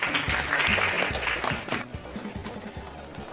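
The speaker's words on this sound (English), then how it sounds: "Round of applause," Classroom students clap briefly, a short burst that dies away after about two seconds, leaving low room noise and faint movement.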